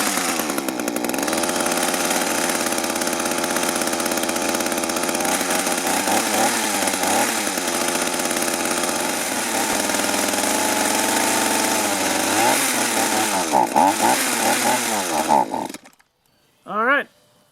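A small two-stroke engine on yard equipment such as a trimmer, blower or chainsaw runs steadily at close range, sputtering and surging as the carburetor runs dry before it cuts out, followed by a brief rising whine.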